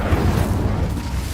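An Incendio fire spell cast in the Hogwarts Legacy video game, a short, dense, low rumbling roar of flame that stays loud and steady throughout, with no voice over it.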